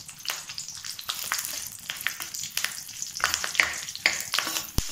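Cinnamon stick, black cardamom and bay leaf frying in hot oil on low heat, a continuous close crackling sizzle broken by frequent spatula scrapes and small pops.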